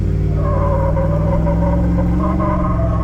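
A car with a 460 EFI 532 stroker engine and roller cam revs loudly up close, its deep rumbling roar rising steadily while the wheels struggle for traction.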